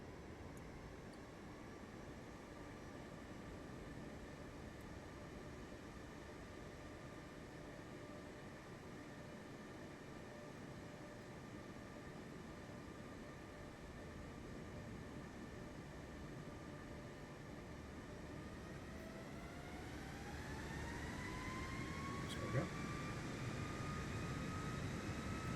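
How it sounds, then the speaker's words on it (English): A Boeing 737 MAX in Microsoft Flight Simulator 2024 runs its jet engines up to full takeoff power, a steady broadband roar with whining tones that rise in pitch toward the end as power builds. "No, we'll go for full takeoff power."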